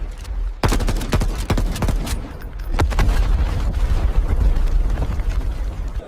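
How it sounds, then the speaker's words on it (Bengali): Rapid bursts of weapon gunfire during a shooting test, a dense volley of loud, close shots after a brief quiet start, continuing almost without pause to the end. "এই নাও অস্ত্র, ফায়ার করো। এটা শুটিং টেস্ট।"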